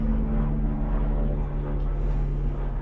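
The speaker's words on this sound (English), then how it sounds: "Bloody police helicopter going across the allotments." A police helicopter passes over allotments, its low rotor and engine drone steady and loud throughout with no talk.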